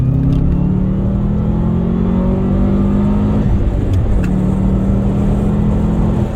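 Subaru Forester XT pulling hard in second gear, a loud close-up in-cabin engine drone with rising harmonics that climb steadily, dip briefly around a shift or lift, then hold at a steady pitch.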